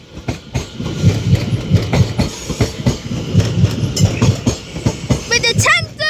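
London Overground Class 377 electric train at London Euston on the Lioness line, with rhythmic clickety-clack of wheels over rail joints and a humming engine, loud and close, while someone speaks over it.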